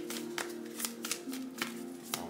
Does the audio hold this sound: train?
no